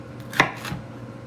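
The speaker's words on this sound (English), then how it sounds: "So I'm just gonna cut this pepper up." A knife chops through a yellow sweet pepper on a board, giving one sharp, close cut followed by a softer second stroke, with no talking.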